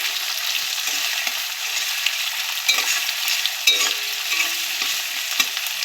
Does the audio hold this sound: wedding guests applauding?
no